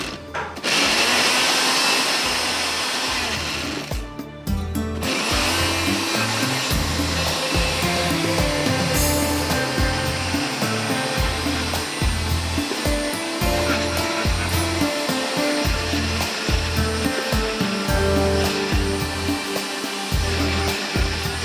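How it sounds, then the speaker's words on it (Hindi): An electric blender grinds tomatoes and onions with a loud, steady motor whir that runs nearly the whole time, after a brief start and a short pause near the beginning. "ये बड़ा अच्छा ब्लेंडर है मेरा, इसमें बड़ी ज़बरदस्त पिस जाता है"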